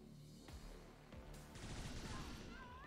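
A super heavy turret opens fire in XCOM 2, a few heavy shots followed by a dense burst of fire, fairly close against a busy game background.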